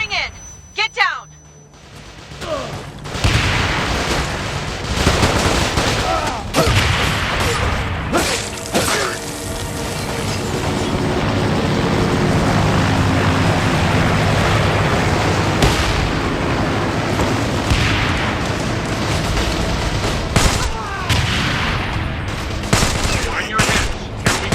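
A video game airstrike erupts in rapid gunfire bursts, heavy explosions and rumbling aircraft noise, loud and chaotic throughout, with voices calling out over the combat.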